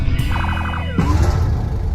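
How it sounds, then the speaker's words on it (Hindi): An ambulance siren wails in a film scene as it arrives at a house, loud rising and falling tones that cut off partway, followed by rumbling vehicle noise close by. "अब तभी उनके घर एम्बुलेंस आ जाती है"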